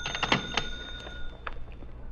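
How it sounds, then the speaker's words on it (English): A telephone rings in a radio drama, a faint, thin bell ringing in short repeated bursts over a quiet, hissy background. "Then the phone rang, and I was sure that it had happened."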